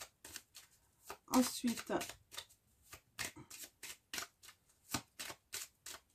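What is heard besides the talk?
shuffling Lenormand tarot cards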